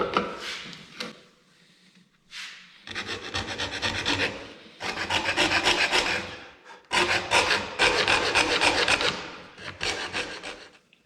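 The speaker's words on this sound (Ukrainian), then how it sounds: "Як уже буде пилятися, зараз спробуємо." A hand saw cuts through a hard wooden blank for a hair clip, making close, raspy back-and-forth strokes in several bursts with short pauses between them.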